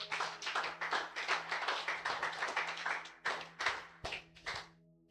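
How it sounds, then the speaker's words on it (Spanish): A church congregation claps in uneven bursts, loud and close, with the clapping thinning into a few scattered rounds near the end. "Denle un fuerte aplauso al Señor."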